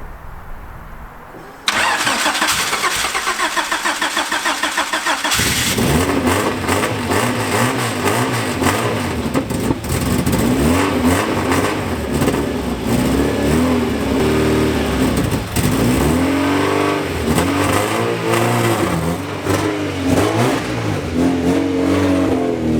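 A Honda Prelude with alternator trouble and a squealing belt cranks and fires up, then revs repeatedly and loudly close by, with no talk over it.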